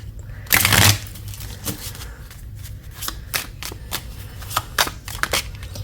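Tarot cards are shuffled by hand in a series of sharp riffling bursts, one long loud riffle near the start followed by quicker, lighter snaps and taps, close up and with no speech.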